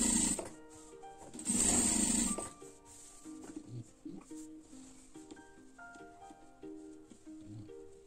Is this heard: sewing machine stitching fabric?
yes